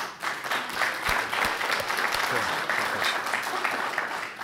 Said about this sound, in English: a round of applause to your board